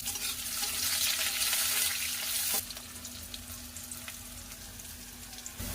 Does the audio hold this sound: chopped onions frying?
yes